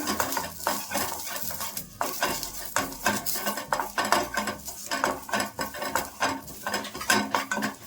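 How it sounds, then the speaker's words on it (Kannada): A handful of curry leaves fry in a pan with a crackling sizzle, repeatedly interrupted by rhythmic metal scrapes and clinks from a spoon stirring against the pan, close and moderately loud. "ಒಂದು ಇಡಿಯಷ್ಟು ಕರಿಬೇವು ಹಾಕೊತಾ ಇದ್ದೀನಿ. ಇದನ್ನು ಒಂಚೂರು ಫ್ರೈ ಮಾಡ್ಕೊಳ್ಳೋಣ."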